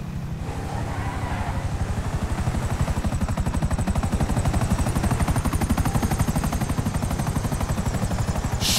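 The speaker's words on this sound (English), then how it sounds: "Chopper!" A helicopter in GTA 5 thunders nearby with rapid, evenly spaced rotor chops that swell in loudness within the first seconds and then hold strong and steady throughout, with no speech.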